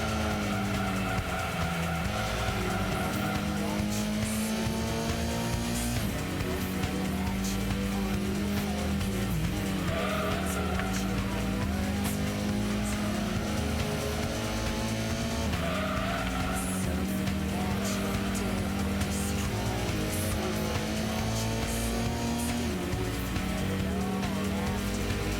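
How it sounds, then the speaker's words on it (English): Race cars in the video game Gran Turismo (1997) roar continuously, engines whining up and down through gear shifts with tire squeal, loud and unbroken. "I can definitely hear exactly where the car behind me is."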